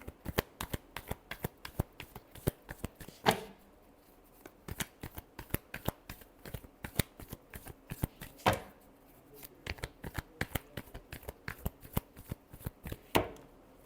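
A deck of tarot cards being shuffled close up, with rapid flicking and snapping card sounds running in quick bursts and a few louder riffle sweeps between them.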